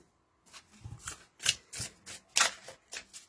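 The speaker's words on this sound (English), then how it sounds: "we're dropping the cards" Oracle cards from a psychic reading deck being shuffled and dropped, giving a series of soft riffling, slapping bursts at close range with brief pauses between them.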